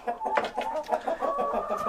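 A hen in a roll-away nesting box clucks steadily and close by, a busy run of short, throaty clucks that rise into a higher drawn-out note near the end, with no talking over it.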